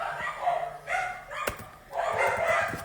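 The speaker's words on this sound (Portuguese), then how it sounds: "Mas parece que tem 20 cachorros latindo" Several dogs barking, a mix of one dog of the house and two of the neighbour's, giving repeated yapping bursts with short pauses, moderately near and without speech.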